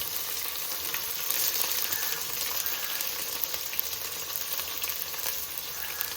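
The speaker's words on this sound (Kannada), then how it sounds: "1 ಈರುಳ್ಳಿ ಹಾಕ್ತಾಯಿದ್ದೀನಿ ನಾನು." Chopped onion fries in a hot pan for home-made nati style vegetable pulav, giving a steady, close, continuous sizzle with no talking.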